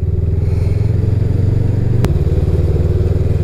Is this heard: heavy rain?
no